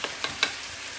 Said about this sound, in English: Bacon is cooking up. I'm sure you can probably hear that sizzling right now.